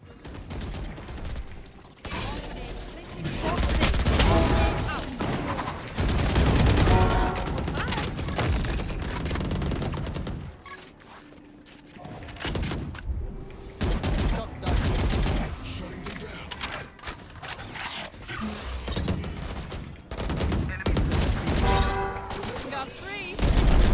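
Rapid bursts of rifle fire in Valorant ring out in repeated volleys with short pauses, loud and close, mixed with weapon handling clicks while a commentator talks over much of the action.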